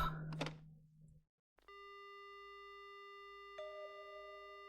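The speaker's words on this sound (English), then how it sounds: "The only sound I hear is the dial tone." Telephone dial tone from a lifted receiver in the horror game Spirit Hunter: Death Mark, a steady electronic hum held alone after a brief clatter, getting slightly louder near the end.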